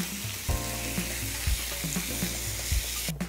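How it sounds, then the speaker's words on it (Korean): Shiitake mushrooms stir-fry in a hot pan with a steady, close sizzle, punctuated by regular light taps and scrapes from stirring and no voices. "자, 표고버섯을 먼저 볶고요."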